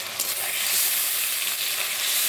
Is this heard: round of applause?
no